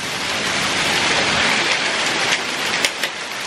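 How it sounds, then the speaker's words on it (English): Hail pelts a vehicle during a severe hailstorm, a dense, close hiss of rapid impacts with a few sharper knocks standing out near the end, and no voices. "We just got caught in a hailstorm."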